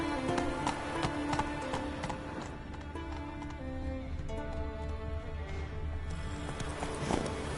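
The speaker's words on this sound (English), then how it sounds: "Run, Roach" Hooves of a horse galloping in the video game The Witcher 3, a rapid clip-clop of hoofbeats under game sounds and music tones, moderate and steady.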